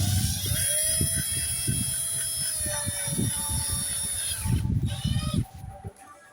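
A drill set to its lowest torque setting driving hex-headed bolts on an X-Maxx RC model, a whirring motor drone broken by short pulsing bursts of tightening, close and moderately loud, cutting off near the end.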